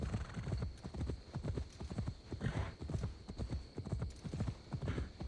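A horse in Assassin's Creed Valhalla trots with steady, rhythmic clip-clopping hooves, a continuous quick beat heard up close and fairly quiet, with a soft background hum.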